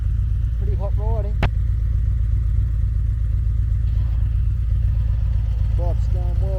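A motorcycle riding along a road on a hot day, its engine a steady close drone under wind noise with a short sharp click, heard from the rider's position.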